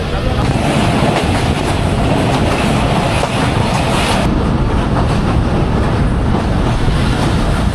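Mongla commuter train pulling away from a station on the Benapole to Mongla line, a loud continuous rumble and rattle of carriages heard up close from on board, with no clear speech.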